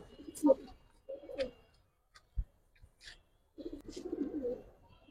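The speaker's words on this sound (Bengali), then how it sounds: "এই যে ভাই মাদি কবুতরটা" Coos from a female Giribaz high-flyer pigeon, a few soft, low bursts spaced through a quiet setting with brief faint chirps and clicks between them.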